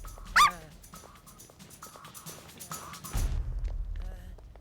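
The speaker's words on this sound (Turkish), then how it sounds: "Baksana köpek bağlı." A dog gives a single sharp yip near the start, followed by faint whimpers and thuds, with rumbling noise rising toward the end.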